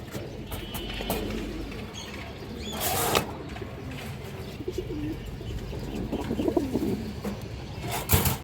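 Giribaz high flyer pigeons coo in short, soft throaty bursts over a low background murmur, with a couple of brief fluttering or rustling noises close by.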